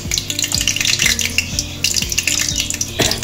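Cardamom, cinnamon, cloves and other whole spices sizzling in plenty of hot oil in a kadai for turkey curry, a steady crackling fry interrupted by repeated metallic scrapes and stirring clanks.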